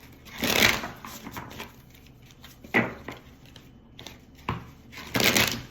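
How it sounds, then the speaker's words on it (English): Oracle cards being shuffled by hand during a Scorpio tarot reading, heard as a few separate riffling bursts at moderate closeness with quiet gaps in between. "So let's go ahead and do a few more shuffles."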